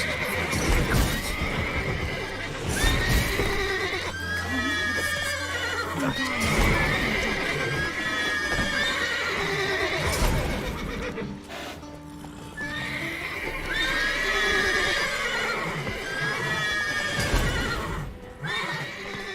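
Horses in The Witcher 3 whinny repeatedly over steady clip-clopping hooves, loud and close, with rising and falling neighs and hoofbeats filling the scene.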